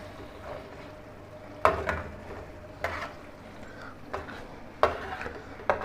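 Beef masala karahi being stirred in a pan after white pepper powder goes in, with soft sizzling throughout and several sharp scrapes and clinks of a spoon against the pan.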